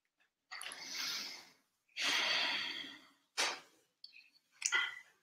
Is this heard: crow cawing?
no